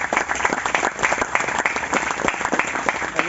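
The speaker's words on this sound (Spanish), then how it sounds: "Por favor, un aplauso para Wilder" Audience applause for a speaker introduced at a patent seminar workshop, a steady dense clapping from a room of people lasting a few seconds with no talk over it.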